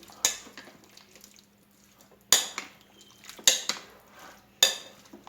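A spoon clinks against a bowl four times while channa chaat ingredients with green chilli and ground mint are mixed, each sharp knock followed by a soft scraping tail, close and otherwise quiet.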